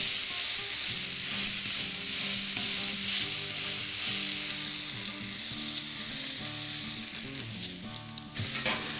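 Beef burger patties smashed thin on a hot griddle give a loud, steady sizzle, with scraping and clinking near the end and no voices.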